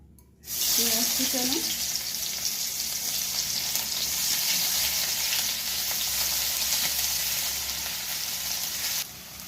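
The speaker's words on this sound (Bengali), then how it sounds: "টমেটো কুচানো আর কাঁচা লঙ্কা ফুটানো এর মধ্যে দিয়ে দিচ্ছি" Chopped tomato and green chili hitting a hot pan, breaking into a sudden loud sizzle after a brief quiet start and frying steadily and close, with faint stirring and no talking.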